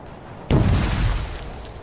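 A grenade detonates in the video game Spec Ops The Line, a sudden loud boom after a quiet lead-in, its rumbling blast decaying over about a second and a half.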